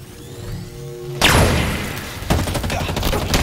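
A grenade blast and rapid gunfire in the video game Halo Infinite: a loud burst erupts after a quiet stretch, then a second impact and sustained crackling shots continue to the end.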